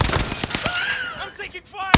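Bursts of automatic gunfire in a Call of Duty match, rapid close shots in quick volleys followed by a sharp final crack, with a voice briefly in the mix.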